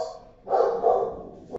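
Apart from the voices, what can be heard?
dog barking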